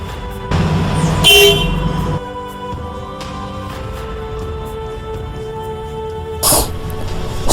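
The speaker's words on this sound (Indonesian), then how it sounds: "hidupkan engine dengan diawali menekan tombol klakson 1 kali" Horn of a Komatsu PC200-8M0 hydraulic excavator sounded as a warning before engine start: a loud, steady blast lasting over a second, with a brief second burst near the end over a faint background hum.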